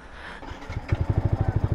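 A Yamaha XSR 155 motorcycle engine with an installed pipe fires up and settles into a quick, even throbbing idle, close and moderately loud, its exhaust pulses evenly spaced.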